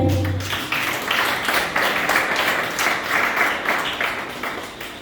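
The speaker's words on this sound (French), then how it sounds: "On peut applaudir pour Miracel." A burst of audience applause, steady rhythmic clapping from many people that holds for several seconds and then begins to fade.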